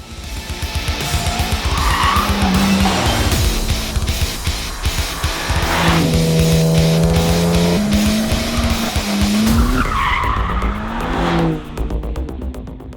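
The engine and exhaust of a BMW M4 Competition roar loudly and nearby, rising and falling through rev sweeps and gear changes with rasping, popping bursts across the whole stretch.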